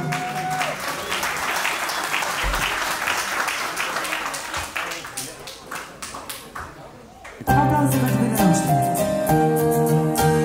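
Wedding guests applaud the newlyweds as their first dance begins, steady clapping filling the room for about seven seconds before music with a clear melody suddenly starts loud and carries on to the end.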